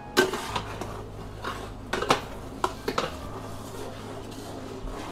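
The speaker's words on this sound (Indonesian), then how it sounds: "Ditumis sampai benar-benar wangi." Ground spices sautéing in a pan, with a quiet steady sizzle broken by several sharp clinks and scrapes of a utensil against the metal.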